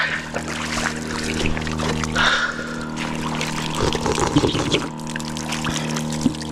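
Water runs steadily from a pump into a container, a continuous gurgling stream over a low mechanical hum, with a few splashy bursts near the end.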